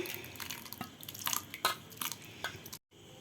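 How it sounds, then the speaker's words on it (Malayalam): Hot tempering is poured into pacha thuvara puli curry, giving close, crackling sizzles and spattering bursts that stop abruptly near the end. "നമുക്ക് താളിച്ചത് ഇതിലേക്ക് ഒഴിക്കാം."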